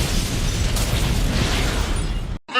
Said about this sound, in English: That Michael Bay just can't stop being protective of his explosions